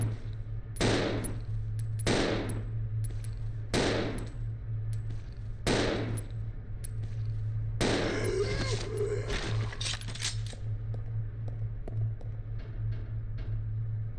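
Gunfire from a video game headshot: several sharp, loud shots spaced about a second apart, then a longer burst of rapid fire, all over a steady low hum.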